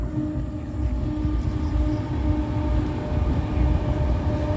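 A low, steady rumble of a passing train, continuous and fairly loud, with a faint tonal hum over the rolling noise.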